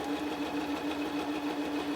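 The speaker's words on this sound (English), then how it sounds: "I'm going to do a back stitch when I begin and a back stitch when I finish" Sewing machine stitching a handle onto a reversible tote bag: a steady, fast mechanical whir with a constant hum, fairly quiet and close, with no talk.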